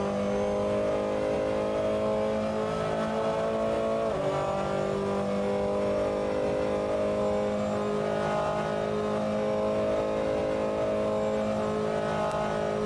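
A Ferrari 488 GTLM race car in a racing video game lapping Spa-Francorchamps, its engine droning steadily loud and near, with a brief shift dip in pitch partway through and continuous high-revving tone throughout.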